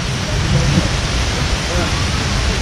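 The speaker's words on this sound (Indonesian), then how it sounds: "Hujan lebat sekali." Heavy rain pours down outside a church gathering, a dense steady roar of broadband hiss that fills the whole clip.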